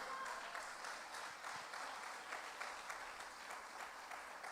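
Church congregation applauding during a sermon, a continuous rhythmic round of clapping from many hands, fairly even throughout, with faint voices beneath.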